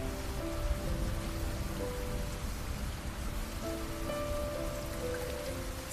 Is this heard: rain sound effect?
yes